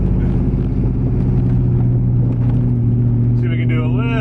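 A C5 Corvette rumbles through an easy cool-down lap, its engine a steady low drone up close with a slight rise in pitch near the end, while a person talks over it.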